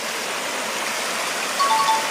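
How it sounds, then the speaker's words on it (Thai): Thi Mi waterfall flowing, a steady, loud, broadband rush of falling water heard up close, constant throughout with no breaks and no talking. "ตรงนี้ก็จะเป็นหน้าน้ำตก"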